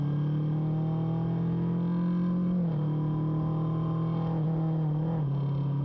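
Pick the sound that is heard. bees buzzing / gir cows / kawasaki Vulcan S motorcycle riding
kawasaki Vulcan S motorcycle riding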